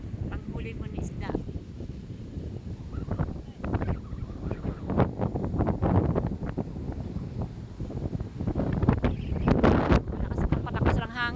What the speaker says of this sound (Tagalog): Palakas lang hangin. Malakas na po palakas po ng ano, typhoon na ito.